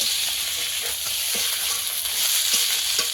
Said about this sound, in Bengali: আদাটা আমি ভালো মতো ভেজে নিয়েছি।